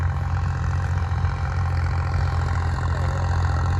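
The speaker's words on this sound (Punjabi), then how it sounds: "ਤੁਹਾਨੂੰ ਟਰੈਕਟਰ ਚੱਲਦਾ ਦਿਖਾਉਣੇ ਆ ਦੇਖੋ" A 4x4 tractor engine runs steadily at close range pulling a harrow, a deep continuous rumble with a low mechanical drone and no pauses.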